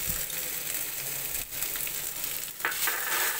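Amla murabba sizzling and frying in a pan with red chilli and garam masala as it is stirred, a steady close hiss with brief scraping stir sounds.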